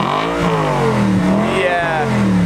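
Audi RS5 with a 4.2 V8 engine revving, a loud, close, deep engine note that rises and falls in quick blips.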